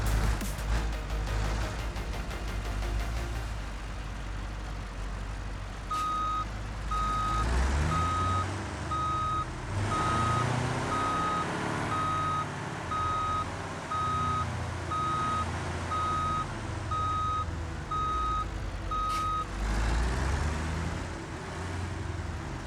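A Kenworth T-series truck in the BeamNG game reverses while hauling steel rolls: a steady engine drone under a long run of evenly spaced reversing beeps, with metallic creaks and clunks from the load.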